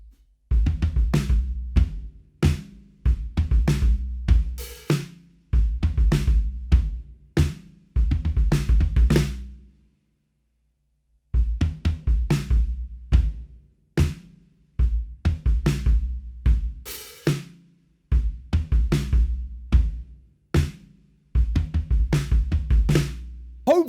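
Drum kit playing a looped rock groove, ending in a drum fill, repeated in several loud bursts with short silent gaps, kick and snare hits with cymbals, no talking.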